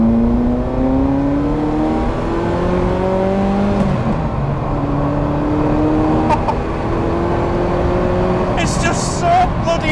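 Ferrari F40 engine with turbos pulling hard through several gears: loud rising revving that drops briefly at each shift and climbs again, with a voice over parts of it.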